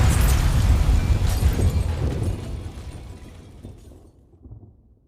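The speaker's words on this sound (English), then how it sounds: "Ah, yes, more explosions with the fire." Fiery explosions from the video game Legend of Heroes: Trails into Reverie, a loud burst of booming blasts and crackle that rolls on and fades away over several seconds.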